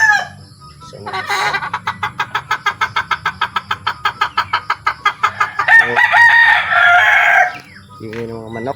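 Chickens at a pigeon-racing loft cluck in a long run of rapid, evenly paced calls, then a rooster lets out a loud, drawn-out crow close by, with a low background rumble throughout.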